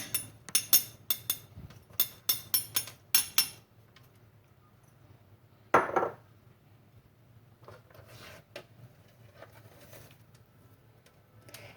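A spoon clicks and scrapes against a dish in a rapid burst of sharp clinks, then a single louder knock and a few scattered faint taps follow in a quiet room.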